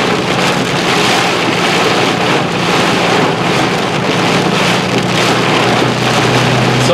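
Heavy rain pours inside a rain-wrapped, tornado-warned bookend vortex storm in Ohio, a loud, unbroken roar of rain with gusting wind buffeting the microphone.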